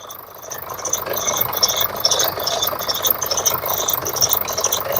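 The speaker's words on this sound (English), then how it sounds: "The squeaking you hear is the tensioner." Diesel Jeep Liberty engine idling steadily with a rattly mechanical clatter, while a worn belt tensioner adds a repeating high squeak at a regular rhythm, heard up close.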